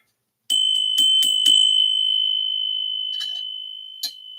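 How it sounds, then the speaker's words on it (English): A bright bell rings several quick strikes, then a sustained high tone lingers and fades, with a couple of softer taps near the end. "they say ring the bell. Like the bell."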